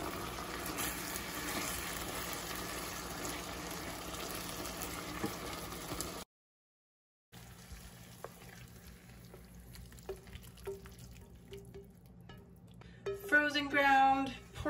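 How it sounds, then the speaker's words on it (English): Ground pork and green peppers simmering in a pan, giving a steady soft bubbling sizzle, briefly cut off, then resuming quieter before a voice speaks near the end. "Simmer that."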